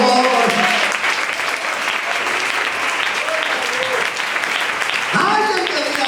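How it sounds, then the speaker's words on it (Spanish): A church congregation applauding, loud sustained clapping from a large crowd lasting several seconds, with voices and tones mixed in underneath. "Denle ese aplauso al Señor."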